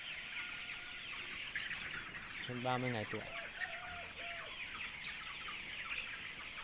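Free-range chickens about 30 days old in a farm coop cluck and chirp in short bursts over a steady background hum, while a person talks nearby.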